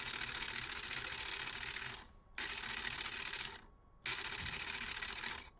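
The rotating gun on a Nemesis Dreadknight 1:18 scale action figure spins with a bright, whirring motorized buzz in three bursts, each lasting about one to two seconds with brief pauses between.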